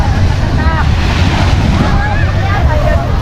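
Ocean surf at a sandy beach resort in Bolinao, Pangasinan, rolling as a steady loud wash with strong wind buffeting the microphone, while people talk faintly nearby.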